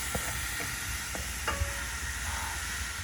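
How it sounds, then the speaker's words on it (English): Steady, broadband sizzling of food frying in a hot pan, with a few light utensil taps and scrapes over it, close and continuous. "You can hear the pan's nice and hot."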